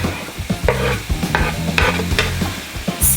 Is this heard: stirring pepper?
yes